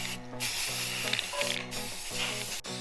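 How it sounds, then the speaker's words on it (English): Short bursts of aerosol spray paint hiss loudly and close up while coating truck front-end parts, including hubs and brake calipers, with brief pauses between passes and a low motor hum underneath. "We're gonna throw a coat of paint on it real quick"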